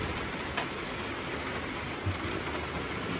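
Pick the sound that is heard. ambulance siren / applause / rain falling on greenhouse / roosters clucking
rain falling on greenhouse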